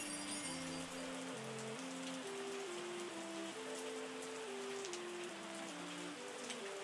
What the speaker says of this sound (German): Oh ja, das regnet und regnet.